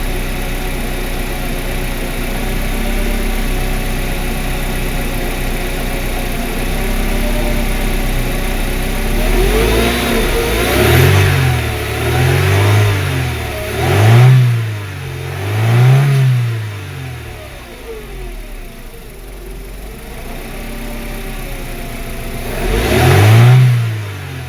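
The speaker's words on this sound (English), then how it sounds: "Let me go try and give it some throttle." A 1995 Mercedes Model 210 running extremely rich and rough, revved in several throttle blips over a steady idle, each rise swelling and falling back; close and loud with no talk.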